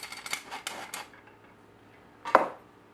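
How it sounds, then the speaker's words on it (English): An old-fashioned hand-crank flour sifter in a home kitchen gives a few quiet metallic scraping clicks in a short rhythmic run, followed after a pause by one sharper clink. "I have one of those old-fashioned sifters with the hand turn on it"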